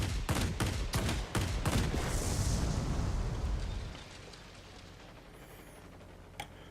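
Aircraft guns fire in rapid bursts in World of Warplanes, a J7W1 fighter's cannon loud and dense for about four seconds before cutting off and leaving a low engine drone with one faint pop.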